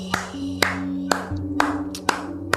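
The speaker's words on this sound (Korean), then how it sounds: "박수가 절로 나와요." Scattered hand claps in an interview studio, about seven sharp separate smacks, close and loud, over a low steady hum.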